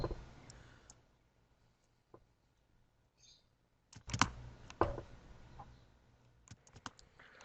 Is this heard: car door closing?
no